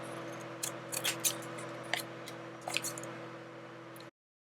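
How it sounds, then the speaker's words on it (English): Scissors trimming the edges of playing cards for journaling, several crisp snips in an uneven rhythm, close up over a steady background hum, with no talk. "I'm just gonna cut these edges"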